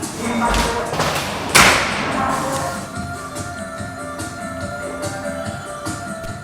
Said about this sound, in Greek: Θα κλείσω την πόρτα πίσω σας, μην φοβηθείτε.